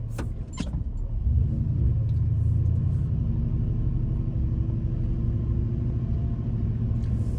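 Pickup truck driving, heard from inside the cab: a steady, low engine and road rumble that builds after a brief jingle of keys at the start, then holds evenly throughout.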